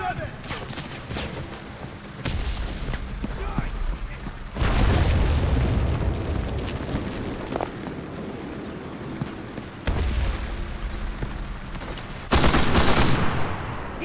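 Gunfire and booming blasts in the wartime shooter game Enlisted, bursts of rapid shots and heavy detonations that flare up repeatedly with lulls between them, while a voice talks over the battle.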